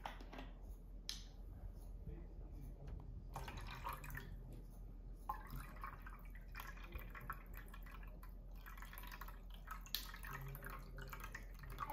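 Vinegar poured into warm water for a homemade baking-soda volcano, a steady close liquid trickle and dripping running for several seconds with no talk.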